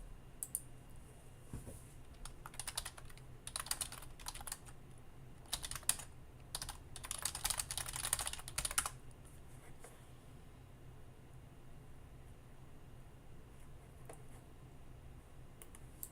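Rapid clicking of computer keyboard keys comes in irregular bursts, close and crisp, during a Ctrl+F search while playing Darkest Dungeon. The typing then stops, leaving a quiet room hum.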